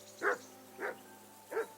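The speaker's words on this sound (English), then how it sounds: "Jesus, Henry, that barking's driving me nuts." Dog barking in the medieval game Kingdom Come: Deliverance II, three separate barks spaced evenly over a faint steady background hum, moderately close and fairly quiet.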